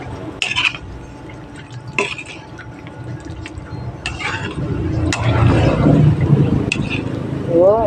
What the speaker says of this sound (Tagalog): Haluin po muna natin.